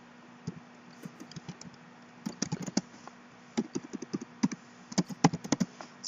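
Someone types on a computer keyboard in a quiet room, with bursts of close, crisp key taps in an uneven rhythm and short pauses between words.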